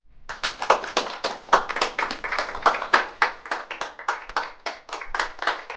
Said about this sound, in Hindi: चलो बच्चों, अब बिल्लू के इस सही जवाब के लिए सभी जोरदार तालियां बजाएंगे।